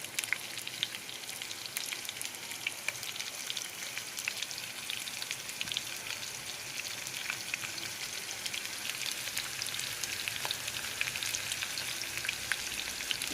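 Sliced onions and green chilies fry in a pan as the base for a Telugu-style chicken fry, giving a steady, fairly quiet sizzle with fine crackles all through and no talking.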